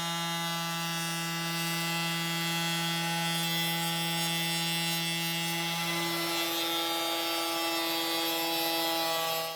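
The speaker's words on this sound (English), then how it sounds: "To joint them, I set them all upright on the CNC table and surface them." A CNC router surfaces the ends of glued-up 4x6 wooden beams set upright on the table, giving a loud, steady, high-pitched machining whine that shifts in tone partway through and continues without pause.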